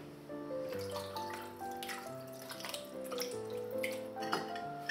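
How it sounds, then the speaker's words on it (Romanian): Water poured into a pot of stuffed peppers, a gentle continuous trickle with shifting pitch as the pot fills, quiet and close with no talking. "Cam o cană de apă."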